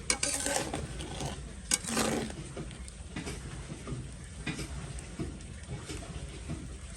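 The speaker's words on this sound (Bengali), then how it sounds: "মাংসটা কষানো হয়ে গেলে" Meat being sautéed with spices in a pan, a soft steady sizzle with intermittent scraping and clinks of a spoon stirring against the metal, close by and without speech.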